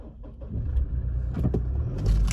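A Toyota Land Cruiser Prado engine cranks and catches after a few mechanical clicks, then settles into a low idle close by.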